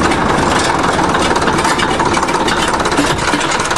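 A 1953 International dozer's diesel engine idles at very low RPM, a loud, steady low rumble with a continuous throb filling the whole stretch, no voices over it.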